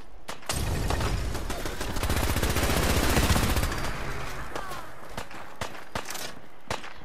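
Sustained automatic gunfire in the video game Fallout 4, a loud continuous rattle of rapid shots that thins into separate sharp cracks toward the end.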